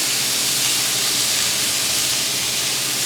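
Meat searing in a hot pan gives a steady, loud, close sizzle and hiss that runs unbroken for a few seconds with no talking.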